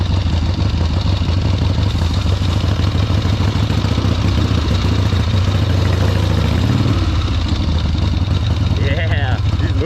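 A 1972 Harley XLCH Sportster motorcycle rides across a lawn, its engine a loud, steady close-up clattering rumble. A voice is heard over it near the end.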